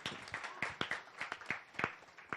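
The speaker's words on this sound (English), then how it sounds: "if you can give them a quick round of applause" A short burst of applause from a small crowd, with scattered, uneven claps close by and no talking.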